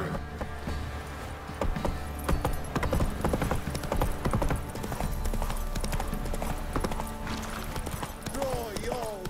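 Horse hooves clip-clop at a steady gallop in The Witcher 3 on PS5, a continuous rhythmic beat mixed with game ambience and a faint whinny near the end.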